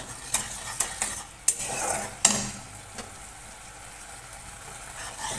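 Chilli powder and turmeric masala with salt and a splash of water stirred and fried in a pan at home, with sharp metal spoon scrapes and clinks over a soft, steady sizzle that fades to a low hiss.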